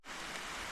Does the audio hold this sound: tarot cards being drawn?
no